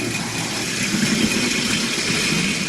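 A Lima OO gauge model diesel locomotive runs fast along its track, giving a loud, steady motor whir and rattling hum with no pauses.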